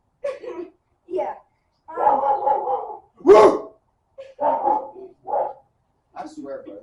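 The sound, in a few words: dogs barking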